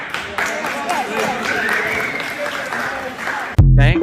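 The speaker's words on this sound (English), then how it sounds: "Thank God for that soul that just started clapping as loud as he could" Loud clapping from one audience member at a live comedy show bursts in at the end, sharp and close, following a stretch of talk.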